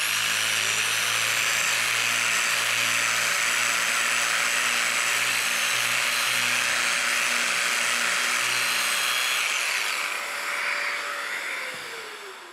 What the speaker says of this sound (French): soit le GR80. Avec celui-ci, je peux poncer ce profil.